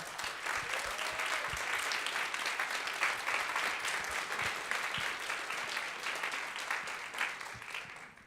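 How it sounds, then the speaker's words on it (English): A school concert audience gives a sustained round of applause for the high school band and jazz performers, dense steady clapping filling the hall at an even level throughout. "can you guys stand up, please, and receive a round of applause as well?"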